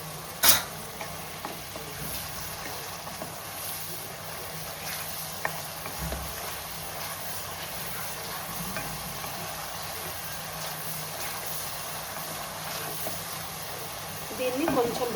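Onion paste frying in a pan with a pinch of salt, giving a steady soft sizzle with occasional stirring scrapes, moderate and continuous throughout, ending in a slightly louder burst of stirring.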